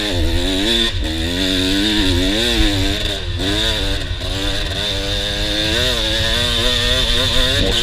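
A dirt bike running a lap on a farm motocross track, its engine loud and close, revving up and down continuously with brief dips where the throttle is chopped.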